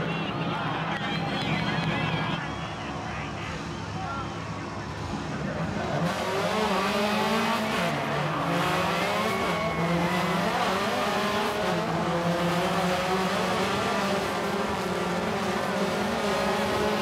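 Travis Pastrana's rally car revs hard and accelerates for a record-distance jump, a loud sustained engine roar rising in pitch after a quieter opening, with crowd noise and voices mixed in beneath.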